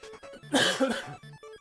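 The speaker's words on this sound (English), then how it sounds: "if this cough gets really bad, I'll try and find a mute button on the keyboard somewhere" A single harsh cough from a person at a keyboard, a brief loud burst framed by quieter breathing or muttering on either side.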